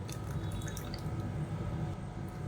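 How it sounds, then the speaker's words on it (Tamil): A small amount of water poured into a rinsed mixer grinder jar after grinding chutney, a close, continuous low splashing and gurgling that fills the short moment without any speech. "இப்போ மிக்சி அலசிட்டு கொஞ்சமாக தண்ணி சேர்த்துக்கலாம்"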